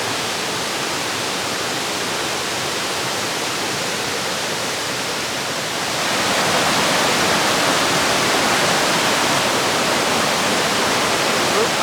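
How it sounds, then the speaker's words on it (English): Powerful rain-swollen waterfalls on a river in Jamaica give a steady, dense roar of rushing water that grows louder partway through, with no voices over it. "A whole set of waterfalls."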